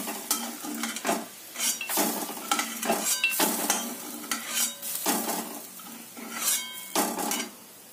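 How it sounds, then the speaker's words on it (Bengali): Peanuts frying in oil in a wok, with repeated metal spatula scrapes and clinks against the pan over a continuous sizzle, close and fairly busy. "কড়াইতে তেল দিয়ে আগে বাদামগুলো ভেজে তুলে নিই।"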